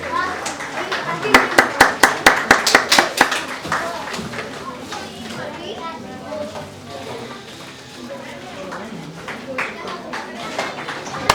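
An audience at a Punjabi cultural centre and Punjabi radio art event claps for a performer: a short burst of sharp, rhythmic claps, then children's voices and crowd chatter.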